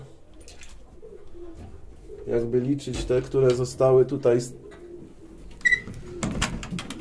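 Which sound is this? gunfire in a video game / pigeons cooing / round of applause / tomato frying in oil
pigeons cooing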